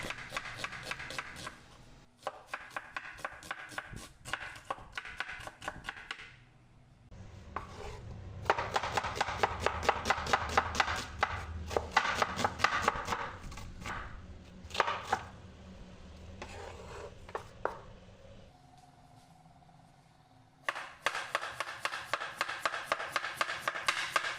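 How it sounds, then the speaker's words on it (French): A knife rapidly chopping potatoes and a large onion into thin strips on a board, with long runs of fast, even taps broken by short pauses, close and crisp with no talk. "je les coupe en filaments, comme vous allez voir"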